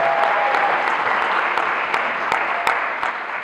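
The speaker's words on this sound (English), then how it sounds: "That should get a cheer of applause." Audience at a teaching for social justice conference applauding in a dense, even burst of clapping that holds steady throughout, loud and close, with no distinct cheering voices standing out.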